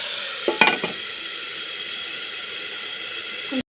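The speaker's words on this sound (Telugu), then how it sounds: "ఉల్లిపాయలు కొంచెం ఎర్రగా వచ్చేలాగే వేగాలి, మగ్గాలి బాగా." Onions fry in a pan with a soft continuous sizzle, broken early by a few short clinks and stirring scrapes, fairly quiet and without talk, ending abruptly.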